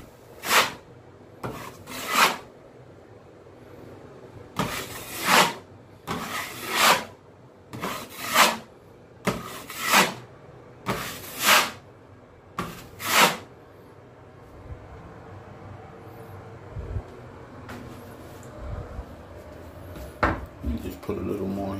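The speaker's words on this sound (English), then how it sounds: "a little light sanding." Light hand sanding of an old ceramic bathroom towel and paper holder: about a dozen short rasping strokes in a steady rhythm, close and fairly quiet, fading to faint background noise and small knocks at the end.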